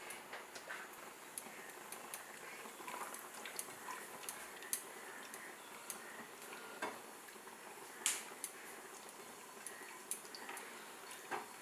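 Food fries quietly in a generous pour of sesame oil in a pan over a medium burner, with soft crackles and ticks scattered steadily throughout and occasional sharper pops.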